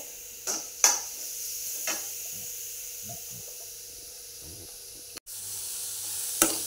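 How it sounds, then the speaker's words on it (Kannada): Carrots and onions fry in a pan, a soft, steady sizzle held low under a few sharp clicks and knocks of a utensil against the pan, with no talking. "ಕ್ಯಾರೆಟ್ ಕೂಡ ಸ್ವಲ್ಪ ಫ್ರೈ ಆಗಲಿ"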